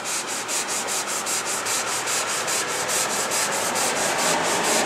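Extra fine sandpaper rubs by hand along a cracked seam in a tank, making rapid, evenly repeated back-and-forth scratching strokes. The close, steady rasping continues throughout with no talking.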